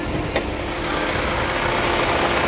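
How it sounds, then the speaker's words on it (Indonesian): A 2014 Chevrolet Captiva 2.0 diesel FWD engine idles with the hood open, giving a steady, even broadband hum that stays constant throughout, with one brief click near the start. "Suara mesinnya kayak gini masih gurih, renyah banget lur."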